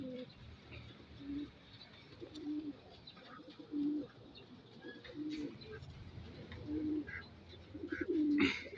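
Racing pigeons coo in repeated low, throaty phrases at a training loft in Tanay, Rizal, over a soft outdoor background, the calls recurring every second or so and growing louder toward the end.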